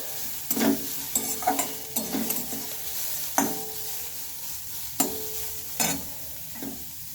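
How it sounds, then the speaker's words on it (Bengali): Carrot pieces frying in a pan for a milk-and-carrot children's tiffin dish, stirred in a series of distinct scraping strokes over a soft sizzle, close and fairly quiet, with no talking. "গাজরটা একটু ভালোভাবে আমি ভেজে নিয়েছি"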